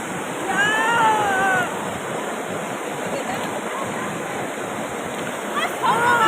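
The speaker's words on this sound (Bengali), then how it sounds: "এইদিকে ঝর্ণা আছে।" Steady rushing water from Usri Falls roars nearby, a constant broad wash with occasional brief voices in the distance.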